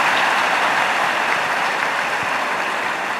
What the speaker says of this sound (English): Can we have a big round of applause to all our participants?